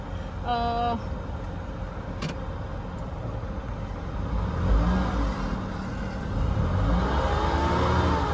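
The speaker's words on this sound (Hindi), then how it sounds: "गाड़ी मेरी आगे जा रही है।" A car rolls forward after the handbrake is released, a steady low engine hum and road rumble that swells slightly midway, with a brief chime near the start.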